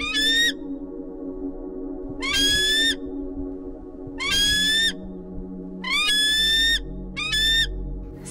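A golden eagle calls in five loud, high whistled bursts spaced about every two seconds, each a short run of shrill descending notes, heard close over steady low background noise.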